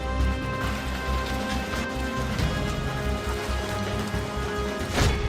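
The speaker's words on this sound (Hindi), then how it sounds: "जहां पर कहीं बारिश हुई तो कहीं तेज आंधी तूफान था तो कहीं ओला वृष्टि हुई।" Heavy rain pours steadily during a storm in Uttar Pradesh, a dense, constant wash of sound with a sharp crack or gust near the end.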